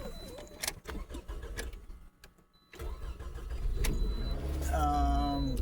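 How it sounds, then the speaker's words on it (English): A Scion xB engine cranks and catches, then settles into a steady idle, heard up close with some clatter and knocks around it. "But the motor sounds good."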